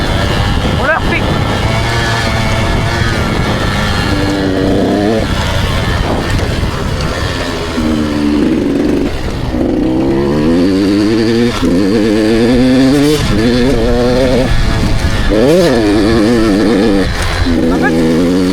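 Gas Gas 85 motocross bike ridden on a dirt track, its two-stroke engine loud and close throughout, revving and shifting through gears with rising and falling pitch sweeps, with wind noise on the microphone and a rider talking over it.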